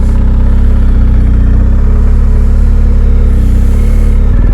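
A motorcycle engine running at low speed through a slow cone weave in a sloping parking lot, a loud, close, steady mid-pitched drone with slight throttle changes and no breaks.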